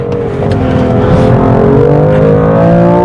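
BMW M2 Competition driven hard on a race track, its engine note loud and close as it pulls steadily upward in pitch under full throttle, continuous for the whole stretch with no talk.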